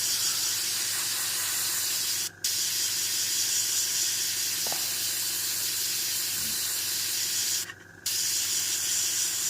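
Airbrush paint sprays steadily onto a scale model, leaving the bolt details unpainted, in a close, continuous hiss broken by two brief pauses.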